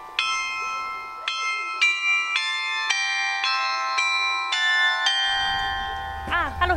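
The town hall glockenspiel in Melle plays a slow melody of bright, ringing bell tones, one struck note after another and each left to sound out, with faint background noise and a brief voice at the end.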